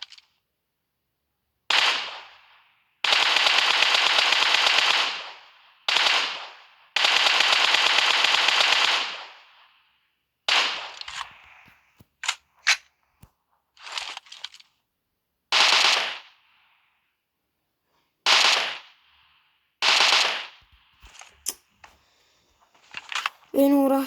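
Gunfire in a shooter video game played without a scope, long loud automatic bursts alternating with short volleys and single shots, close and sharp, with some talk between the bursts.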